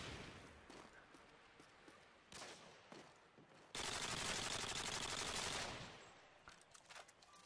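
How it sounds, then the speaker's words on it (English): Multiplayer shootout in MW2, with scattered gunshots, then a dense burst of sustained automatic fire for a couple of seconds before sporadic shots trail off. "A little shootout going on."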